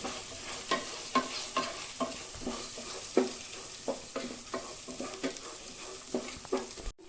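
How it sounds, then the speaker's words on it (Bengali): Moong dal frying in hot oil with tempering spices for vegetable khichuri, a constant gentle sizzle under repeated rhythmic spatula scrapes and taps against the pan, close and fairly quiet with no talking. "আমি মুগ ডালটা ভেজে নিই, আমি ফোড়ন দিয়ে ভেজে নেব, ফোড়নেতে ভেজে নেব।"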